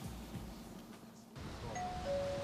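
Doorbell chiming through a quiet room, a couple of electronic tones sounding one after another over low background hum.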